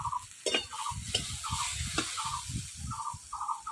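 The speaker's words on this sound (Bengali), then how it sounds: "এই দেখেন আমার সবজি কত সুন্দর ভাবে ভাজা হয়ে গেছে।" Mixed vegetables with potato and green banana frying in a pan in a village kitchen, a steady close sizzle broken by repeated scraping stirs and clinks of the spatula.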